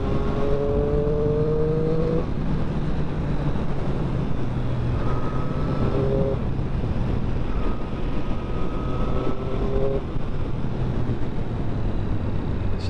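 A Triumph Street Triple RS motorcycle exhaust drones loudly and steadily on a coast road, rising and falling in pitch as gears change, backed by continuous road and wind rush.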